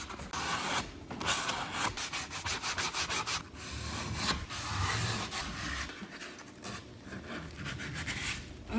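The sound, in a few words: sanding wood by hand with a sanding block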